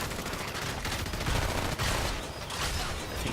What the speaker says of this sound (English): Hitting him from a distance with my guided rockets.